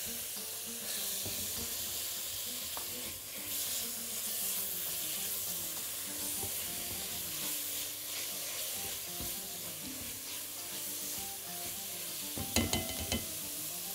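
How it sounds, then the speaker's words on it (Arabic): Spinach sautés in a pan with a steady, faint sizzle and hiss, and soft clinks and stirring sounds rise near the end. "واسيبها تتشوح شوية."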